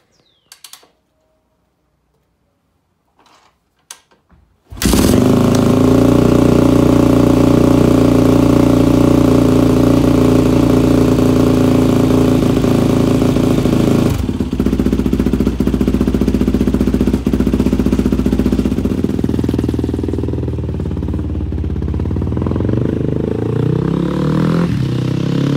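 After a few faint clicks, a Yamaha WR450F dirt bike engine fires up and runs continuously, loud and close, its steady idle holding for about twenty seconds with a slight drop in pitch partway through.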